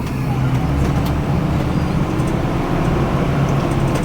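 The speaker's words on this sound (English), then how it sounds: "It's 4:20, so I wonder if this is... 5 o'clock traffic." Steady road traffic from cars, buses and trucks during late-afternoon rush hour near a state border, a continuous close rumble and hum of engines and tyres with no clear breaks.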